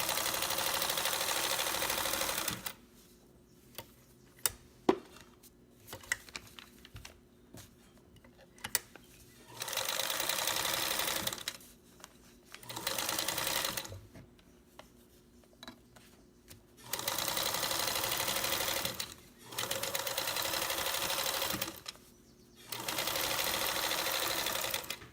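A sewing machine stitches along the edge of fabric in several loud, sustained runs of rapid mechanical whirring, separated by short pauses with faint handling clicks.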